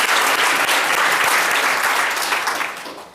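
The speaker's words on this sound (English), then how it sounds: "can we just applaud the 10 speakers and 10 presentations again?" An audience at a library community talks event bursts into dense, steady clapping that holds strong for a few seconds and then gradually thins and fades.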